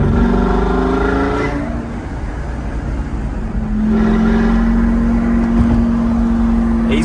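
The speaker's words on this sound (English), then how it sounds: "He's got it so that basically between the shift he can get it to open the throttle blades and you get this big whoop." A Gen 1 Lamborghini Gallardo Superleggera roars under load, then its note drops through a gear change. The engine picks up again with a throttle whoop between shifts, loud and close, ending in a steady, high drone.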